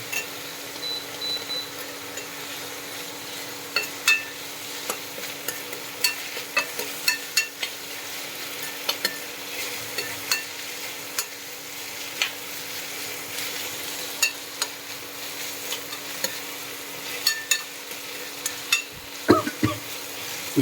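Tomato, onion, carrot and beans sautéing for Maggi noodles, a continuous gentle sizzle broken by frequent light taps and scrapes of a stirring spoon against the pan, close and unaccompanied by speech.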